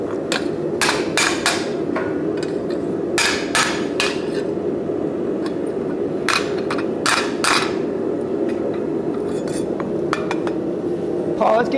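Hammer blows on hot metal at a blacksmith forging demonstration, a series of sharp ringing strikes in uneven bursts of two or three, close and loud over a steady background hum, with no talk.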